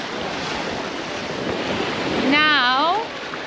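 Ocean waves wash onto the beach at Essaouira, Morocco, in a continuous broad rush mixed with wind buffeting the microphone, and a voice briefly speaks over the surf near the end.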